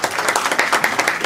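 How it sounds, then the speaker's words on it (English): Short burst of applause from a church audience welcoming their pastor and professor before a talk, steady dense clapping filling the room with no voices over it. "let's give him a round of applause"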